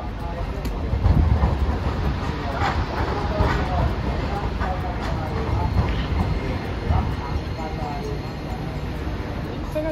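Hiroshima Electric Railway streetcar passing at Hiroshima Station, a steady rumble of wheels and rail noise lasting throughout with faint clicks, under repeated recorded platform announcements.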